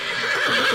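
A horse whinnies in one sustained, high, wavering neigh, loud and close, with no talking over it.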